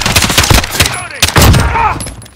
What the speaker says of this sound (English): Enemies in the area! Taking fire!